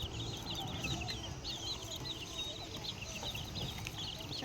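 Chicks cheeping in a steady stream of high chirps over low murmuring background noise from a farm setting, faint and continuous.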